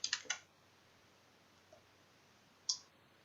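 A few quick keyboard clicks in a quiet room, a small cluster at the start and one more sharp click near the end, with near silence in between and no talking.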